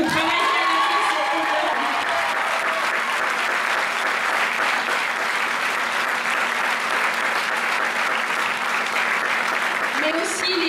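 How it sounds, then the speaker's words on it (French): A full audience applauds loudly and steadily at a Miss Ronde Poitou-Charentes 2013 pageant, a dense sustained wash of clapping that holds throughout with little change. "je vous demande de l'applaudir"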